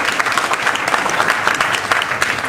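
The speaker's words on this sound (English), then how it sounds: "Another round of applause for Greg." Audience at a business networking talk clapping for a speaker, a dense, steady burst of applause from a room of people, continuous and fairly loud throughout.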